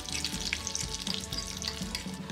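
Mustard seeds, cumin and urad dal fry in hot oil, giving a quiet, continuous sizzle with fine crackles and pops throughout, and no talking.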